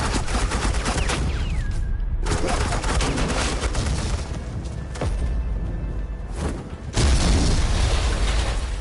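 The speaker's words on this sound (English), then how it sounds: "Suppressing fire." Rapid suppressing gunfire in the video game Batman: The Enemy Within, dense and loud, running as a continuous barrage with sharp bursts and a heavier boom near the end.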